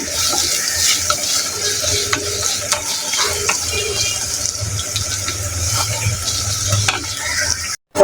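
Onions frying in a pan with a little salt for a kahi and egg dish, a continuous close sizzle broken by repeated spatula scrapes and taps, ending with a brief gap and a loud bump.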